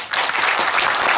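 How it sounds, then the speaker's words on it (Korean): Steady applause from an audience at a forum discussion session, welcoming a speaker; dense, continuous clapping, moderately loud and close, with no talk over it. "하여튼 박수로 모시겠습니다."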